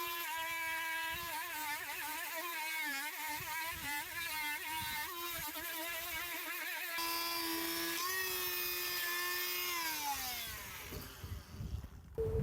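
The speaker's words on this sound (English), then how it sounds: "we'll set up the multi-tool and try that" A steady, high-pitched buzzing whine of an oscillating multi-tool cutting during sailboat renovation runs continuously, wavering in pitch as it works, with no talking.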